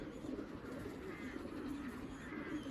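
Pigeons coo in low, throaty rolling calls, several birds overlapping steadily close by, with no one speaking.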